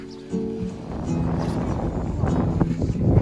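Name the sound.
strong wind blowing in Aguergour, Morocco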